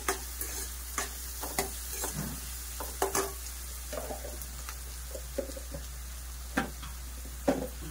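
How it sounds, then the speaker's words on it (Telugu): Onions cook quietly in a pan for a dried prawn curry, giving a faint steady sizzle broken by irregular scraping and stirring knocks from a utensil against the pan. "ఈ ఉల్లిపాయ అనేది కాసేపు మగ్గాలండి."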